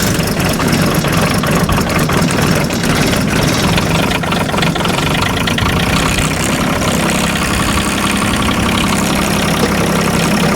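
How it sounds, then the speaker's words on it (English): A John Deere engine idling after a hard cold-morning start, a loud, steady mid-to-low rumble with a slight knocking texture running unbroken and alone for the whole stretch. "So we'll fire up the John Deere if it will start up."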